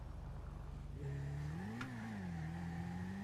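A car engine in a GTA-based roleplay video game idles, then revs up and holds a steady, rising and falling drone during a wheelie attempt, loud and close with no speech.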